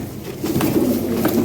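A fancy pigeon coos close by in a few soft, rounded, repeated calls over low background noise.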